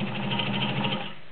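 A vintage Kenmore 1203 heavy-duty sewing machine stitching through nine layers of heavy cotton upholstery runs with a fast, steady mechanical whir and rapid needle ticks, close and alone, easing off as it stops.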